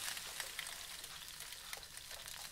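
Chilies frying in a pan in the cooking game Venba, a steady close sizzle with crackling pops throughout, no talk.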